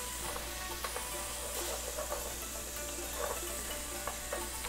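Ground pork browning in a little added oil in a pan for chow mein, giving a steady, close sizzle with faint crackles and stirring scrapes throughout.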